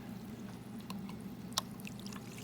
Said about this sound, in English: I'm going to add a little bit more soda to this